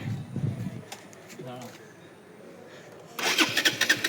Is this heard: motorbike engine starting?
yes